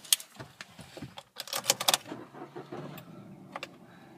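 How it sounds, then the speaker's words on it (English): A Kia Picanto SR7 is started up at a used-car garage in Bristol: a short cranking and catch after some clicks and key rattles, followed by a quieter idle with a few more interior clicks, close up. "For now, just start the vehicle up."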